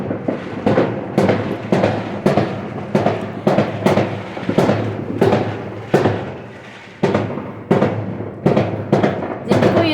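New Year's Eve fireworks bursting repeatedly, a rapid series of sharp booming explosions every half second or so, some near and loud, others more distant, with rumbling echoes between them.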